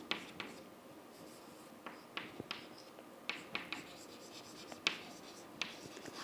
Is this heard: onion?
no